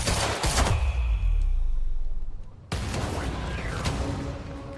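Heavy pistol shots in the video game Quantum Break, a few loud sharp bursts with booming low tails, separated by a short quieter gap, with no talk.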